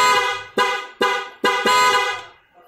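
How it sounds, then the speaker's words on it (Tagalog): A 12-tone car horn, newly installed on a Winner X, sounds loud and close in four sharp blasts of a rich harmonic tone, the last one held longer before it cuts off. "napakaganda niya pala sa Pia horn"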